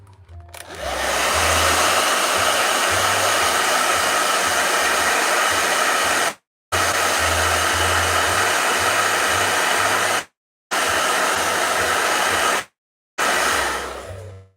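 A hair dryer roars loudly and steadily, cutting out briefly three times before starting up again.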